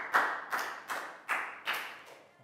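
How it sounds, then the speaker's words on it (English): A Year 4 class claps together in five sharp, evenly spaced unison beats, each crisp and close, fading slightly toward the end. "big round of applause for Nadia"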